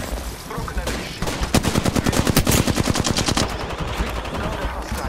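Rapid automatic gunfire in the battle royale shooter Apex Legends, a sustained burst of evenly spaced shots close and loud amid a busy firefight mix.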